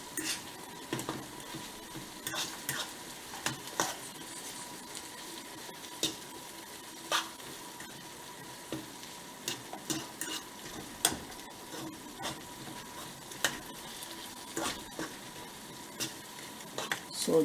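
Beef being stirred with tomatoes and spices in a cooking pot, giving steady scraping and stirring strokes at an uneven rhythm, with occasional utensil knocks against the pot over a soft continuous sizzle.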